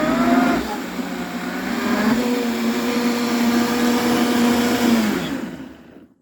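A blender whirs loudly and steadily as it grinds tomato salsa to a chunky texture, its motor pitch shifting slightly before it winds down and stops.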